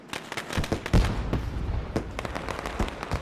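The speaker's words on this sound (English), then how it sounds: "See the fireworks going off in the background" Fireworks crackle and pop in repeated bursts after a stock car race in the iRacing sim, with scattered loud bangs over a steady background roar and no voices.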